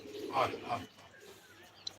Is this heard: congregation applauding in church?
no